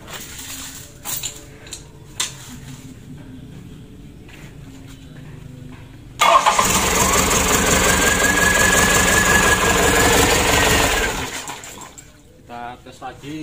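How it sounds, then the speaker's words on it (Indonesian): Rebuilt Isuzu Elf NKR 71 diesel engine cranks and fires up, then runs with a loud, steady rattling drone for several seconds before shutting off; faint sounds and brief talk come before and after. "Oke, kita tes dulu, kita hidupkan."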